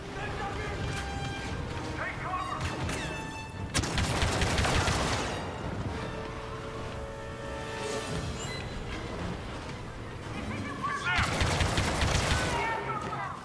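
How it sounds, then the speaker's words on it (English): Blaster gunfire in Star Wars Battlefront II, with steady shooting and two loud, dense bursts of rapid fire standing out over continuous game sound while someone talks. "Where is he shooting?"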